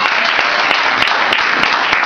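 A church congregation claps steadily and loudly during a worship service, dense applause filling the space without pause.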